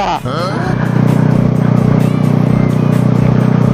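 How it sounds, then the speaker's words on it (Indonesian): Standard-engine motorcycle fitted with an aftermarket racing exhaust, a loud steady low droning rumble that rises after a brief rev at the start and then holds close and constant. "Ya seperti kalian yang kalian denger ya, kalian aku pakai knalpot racing lagi cuy."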